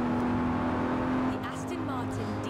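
Aston Martin DB5 Vantage engine from the video game Forza Horizon 4 hums steadily at mid volume, with a brief shift partway through and a narrator speaking over it.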